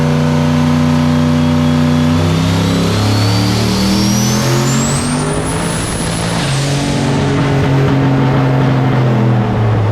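A turbocharged aluminum 5.3 LS V8 in a truck roars loudly on a dyno at about 34 pounds of boost, revving up in one long sustained pull with rising pitch and a whistling turbo whine, no talk.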